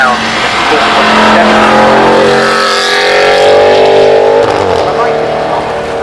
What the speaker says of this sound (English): Aston Martin Vantage. I feel like stop talking there for a minute so you can hear that